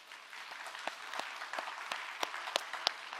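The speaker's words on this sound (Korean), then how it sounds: "우리 하나님께 한번 영광의 박수 올려드릴까요?" Congregation applauding at a Korean church service, a steady wash of many hands clapping with a few sharper individual claps standing out, moderately loud and continuous.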